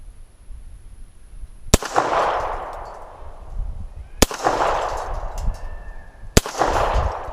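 Three loud, sharp shots from a Walther P-1 pistol at a shooting range, each a hard crack with a ringing tail, spaced a couple of seconds apart, close and with no voices.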